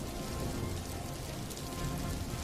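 Heavy torrential rain pours down steadily over farm fields, a dense, constant hiss and patter of drops with no pauses and no voices.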